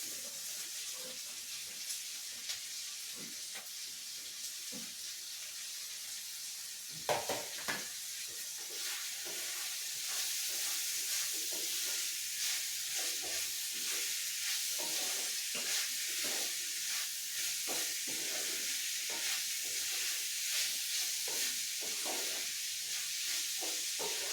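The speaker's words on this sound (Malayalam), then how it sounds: "ചെറിയ ഉള്ളി ഏകദേശം വഴണ്ട് വന്നിട്ടുണ്ട്. അതിലേക്ക് നമുക്ക് അരിഞ്ഞു വെച്ചേക്കുന്ന സവോള ഇട്ട് കൊടുക്കും." Shallots and sliced onions sauté in a pan for a Kerala beef roast, producing a soft, steady hissing sizzle that grows fuller partway through, with occasional stirring clatters and no voices.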